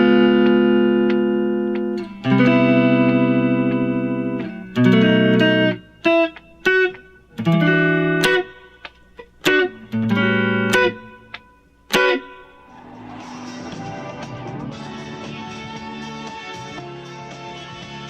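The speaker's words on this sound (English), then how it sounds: "I'm using a thin pick so that I get this really light strumming sound" Light strumming of the chords to a song on guitar with a thin pick: clear, choppy chord hits with short gaps, then a busier, scratchier passage of quick strums.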